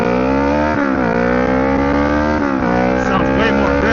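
A Kawasaki Ninja 650 motorcycle, just fitted with a throttle (MAP) sensor fix, revs hard through its gears on a ride. The loud, close engine note climbs, drops at each shift and climbs again.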